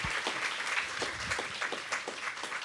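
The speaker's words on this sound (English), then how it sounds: "Give everyone a round of applause." An audience at a school of media studies orientation evening gives a round of applause, with individual claps audible in a fairly quiet, steady patter.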